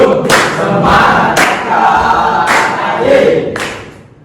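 Students in a classroom doing a rhythmic clapping chant, with several sharp group claps in a patterned beat under loud crowd voices.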